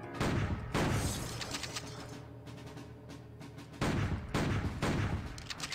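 Bursts of gunfire from a cowboy-themed video game, with two loud broadband volleys at the start and end around a quieter stretch of rapid, rattling shots.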